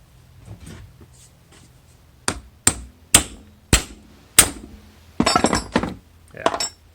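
Socket hammered against a universal joint cup to drive it out of a driveshaft: a run of five sharp, close metallic blows in steady rhythm, followed by a louder burst of rattling clanks.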